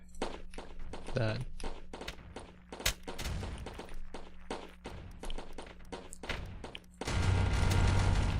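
Rocket launcher fired in an indie game built in Godot, sharp repeated blasts and thumps in quick irregular bursts, ending in a louder rushing explosion, with a person talking over the game sounds.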